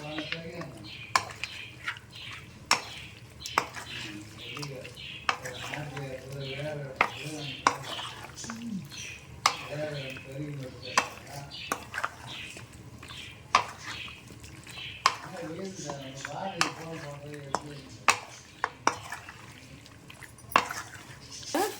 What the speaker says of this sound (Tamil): ஒரு கிலோவுக்கு 1 முட்டை உடைச்சு ஊற்றிக்கணும். இதை நல்லா மிக்ஸ் பண்ணிக்கலாம்.